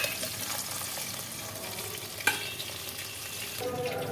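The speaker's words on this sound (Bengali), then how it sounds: "এক পাশ ভাজা হয়ে গেছে আর এক পাশ ভাজছি" Small tangra fish frying in hot oil in a pan, a steady soft sizzle running throughout with a brief clatter midway; no talking.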